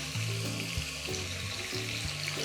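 Mutton is stirred and fries in a pan, a steady sizzle with scraping of the stirring, while a low tonal hum rises and falls underneath.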